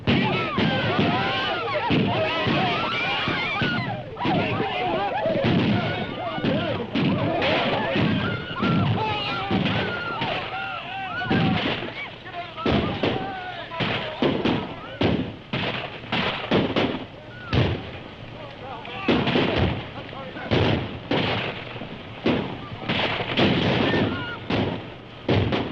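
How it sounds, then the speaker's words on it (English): Gunfire during a battle with attacking Indians in a 1932 frontier serial, many sharp shots cracking in rapid irregular bursts over a constant noisy battle din, with shouting voices mixed throughout. "you're firing too high"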